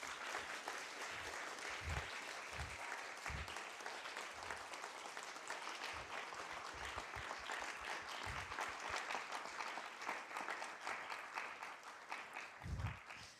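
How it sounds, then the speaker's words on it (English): An audience at the King's College London Three Minute Thesis final applauds in steady, sustained clapping, a dense crowd of hands throughout, with occasional louder individual claps standing out close by. "since you've already clapped"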